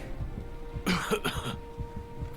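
A game character in Heavy Rain coughs once or twice in a short, sharp burst over a low, quiet background, with no one talking.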